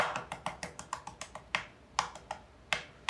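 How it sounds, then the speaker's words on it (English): A boiled egg being tapped and cracked while it is peeled, set beside ramen in a home kitchen: a steady run of crisp, close taps, quicker at first and then more spaced, with nothing else heard. "I'm gonna go ahead and try to peel this egg live so you guys can see it"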